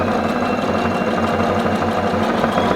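A sewing machine stitching tote bag fabric, a loud, close, continuous mechanical whir with a fast regular needle pulse throughout, stopping abruptly at the end.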